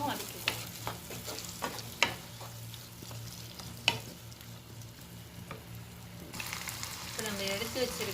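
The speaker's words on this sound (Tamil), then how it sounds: "இப்போது தக்காளி ஆட் பண்ணுறேன். தக்காளி நல்லா மேஷ் ஆகிற வரைக்கும் வதக்கிக்கோங்க." Tomatoes sautéing in a pan for a leftover idli snack, a continuous sizzle broken by sharp spatula knocks and stirring scrapes, turning brighter and noisier toward the end.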